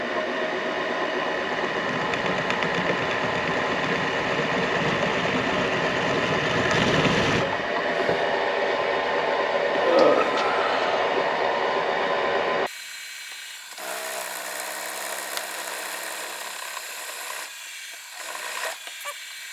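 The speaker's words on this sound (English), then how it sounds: "we're using a center drill from the lathe to start this process" A steady mechanical whirring grind of a center drill on a lathe cutting into material, continuous for several seconds, then the motor note drops lower and quieter.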